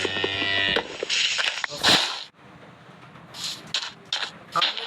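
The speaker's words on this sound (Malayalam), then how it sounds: "പശു" A cow in the Minecraft video game lets out a loud, drawn-out moo, followed by shorter game sounds and rustling, with no talking over it.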